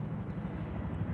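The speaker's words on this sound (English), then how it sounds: "Sorry for the noise. It's the helicopters" Helicopters flying overhead make a steady low rumbling drone with a faint rhythmic beat, moderately loud and continuous for about a second.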